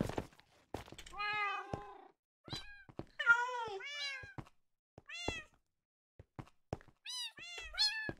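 Minecraft cat meowing repeatedly, with several distinct, clear meows spaced irregularly across the stretch, interspersed with soft thunks and brief quiet gaps, fairly close and alone without talk.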